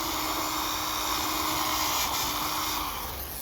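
A low-speed power tool whines steadily while stripping coating and residue from a dome, a continuous close motor drone with a slight shift in pitch near the end.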